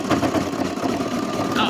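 A sewing machine runs steadily while stitching lace under the presser foot, a continuous mechanical whir with a fast stitching pulse, and a person talks over it.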